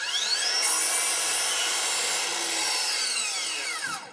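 A saw cuts a 15-degree miter through a wooden board, a loud, steady continuous whine with a single pass lasting several seconds before spinning down at the end.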